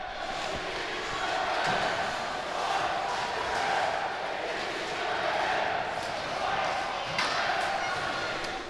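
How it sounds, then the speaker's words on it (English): Crowd noise at a junior hockey championship game, a broad roar of cheering that swells and dips in waves, with occasional thuds from the ice and a commentator's voice faintly under it. "And you can hear the crowd."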